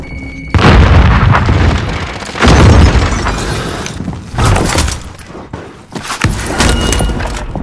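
An AT mine explodes in the Call of Duty: Warzone video game on Rebirth Island. Several loud, shattering blasts and heavy booms burst in close succession with crashing debris between them.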